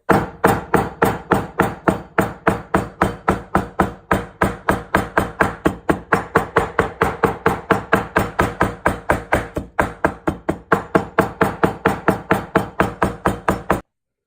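Rapid, steady hammer taps on leaves laid on fabric, dozens of evenly spaced dull knocks continuing without pause before stopping abruptly.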